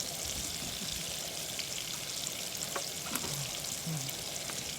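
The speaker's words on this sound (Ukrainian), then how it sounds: "Чуть-чуть полиємо ще олійку." Liver frying in a pan of oil, with a steady close sizzle throughout and a few faint clinks and splashes as more oil is poured in; no talking.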